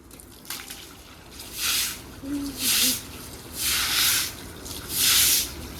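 Water sprayed in repeated bursts onto blackened house bricks during home washing, a hissing splash coming and going in several long pulses over steady background noise.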